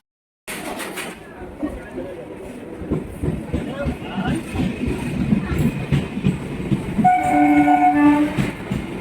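A train rumbles through a railway station with clattering wheels and a steady rising roar, and a loud horn sounds near the end; people talk over the station noise.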